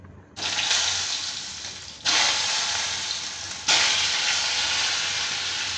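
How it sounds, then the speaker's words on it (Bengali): Potatoes frying in hot oil with a pinch of turmeric hiss in a loud, continuous sizzle that jumps sharply at three points as more goes into the pan, then settles and fades slightly. "সামান্য 1 চিমটি হলুদ দিয়ে আলুগুলোকে ভেজে নেব।"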